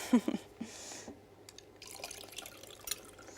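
A drink is poured into glasses, a brief liquid splash and trickle near the start, followed by quiet clinks and faint rustling handling noises.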